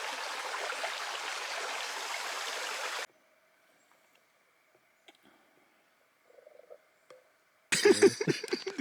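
Creek water rushes steadily and close by for about three seconds, then cuts off to near silence with faint scattered ticks before a louder burst of water noise returns at the end.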